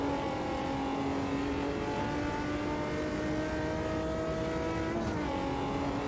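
Engine of the big Omega 99 car in Automobilista 2 droning steadily at high revs, a loud continuous tone holding pitch before a brief dip near the end, with no talking.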